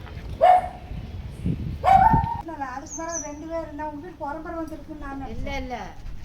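A dog that had been kept tied to a tree gives two sharp barks close by. These are followed by a run of high, wavering whimpers and yips, with muffled movement in the background.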